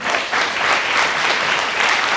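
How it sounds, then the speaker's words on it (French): An audience at an inter-university eloquence contest final applauds the finalists with loud, sustained, even clapping from a large crowd, filling the room without a break. "on va les applaudir encore une dernière fois s'il vous plaît"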